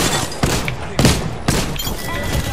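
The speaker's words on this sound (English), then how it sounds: "I'm taking fire" Gunfire in the video game Apex Legends, several sharp broadband bursts about half a second apart over a steady background of game noise, with short rapid volleys between the louder blasts.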